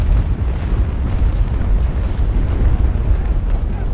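Cannon fire and explosions in the Naval Action sailing-ship game, heard as a dense, continuous low rumble of booms and crackling that stays loud and steady throughout.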